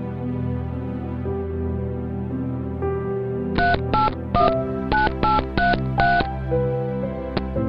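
A telephone keypad dials a number, sounding around eight short, evenly spaced DTMF beeps in quick succession, loud and clear over a steady background of music or ambient hum, with no talking.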